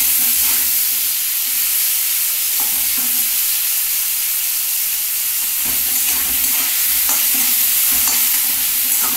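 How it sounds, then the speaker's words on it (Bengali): Potatoes and onions frying in a pan give a steady, close sizzle, with stirring scrapes and clinks recurring throughout and no voices. "আলুটাও ভাজা হয়েছে।"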